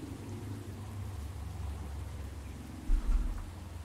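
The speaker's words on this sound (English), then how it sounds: "Never a good sign when it's raining." Rain falls in a video game as a steady broadband hiss lasting throughout, joined by a brief low rumble near the end.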